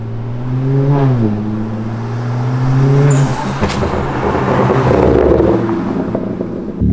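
A straight-piped BMW 335i with a race exhaust revs loudly up close, its pitch climbing and dropping in a brief rev, then settling into a rough, crackling drone.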